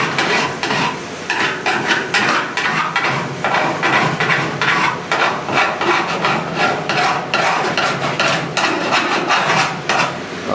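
A hand file rasps along the door gap edge of a 1969 Chevrolet C10 truck in close, rhythmic back-and-forth strokes that repeat steadily throughout with no pauses.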